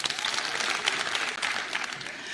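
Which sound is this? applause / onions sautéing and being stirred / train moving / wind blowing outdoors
applause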